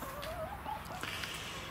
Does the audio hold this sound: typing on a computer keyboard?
no